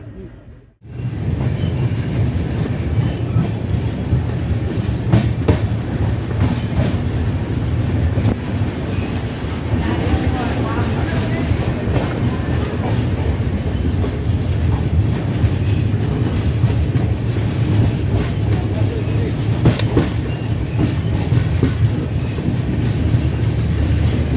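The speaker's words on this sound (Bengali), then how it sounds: "ট্রেন এমনি যাচ্ছে ভালো" The Rajendra Nagar Capital Express running between NJP and Barsoi Junction, heard from inside as a loud, steady rumble with rhythmic clickety-clack of the wheels and some wind noise, continuing throughout.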